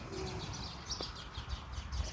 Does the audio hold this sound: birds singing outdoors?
yes